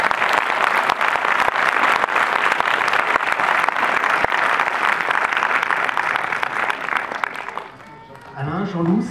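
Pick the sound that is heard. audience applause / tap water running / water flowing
audience applause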